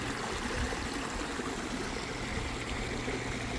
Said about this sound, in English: The big waterfall.